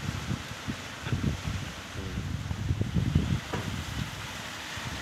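Strong gusty wind blows across a residential rooftop where loose corrugated metal sheets and a pigeon house are being torn loose, a steady rushing roar with rustling surges and rattles, louder bursts in the middle, and no talk.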